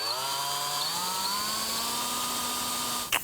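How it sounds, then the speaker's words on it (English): Power sander working hazy car headlight lenses with sanding discs, a steady high whine with a rising motor tone held throughout, close and continuous, ending with a brief clunk. "So we'll sand them down."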